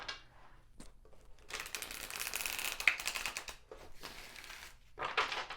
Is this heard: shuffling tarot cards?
yes